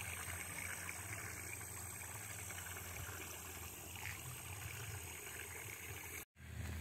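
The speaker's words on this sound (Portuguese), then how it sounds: "Os barulhos dos carros passando aqui." Traffic on a nearby highway beside a rural plot, a steady low engine rumble and road noise that swells softly as cars pass at a moderate distance, with no talking.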